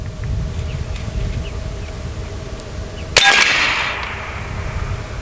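An AEA Terminator .30 cal air rifle fires a slug at a target range: one sharp, loud crack partway through, with a brief hissing ring after it, against a quiet background.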